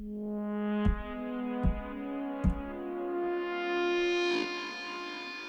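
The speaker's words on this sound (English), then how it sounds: "It creates this really beautiful sort of bizarre synth sound." A sustained, buzzing synth tone with echoing repeats and washy reverb, punctuated by a few evenly spaced percussive hits, played alone without any voice.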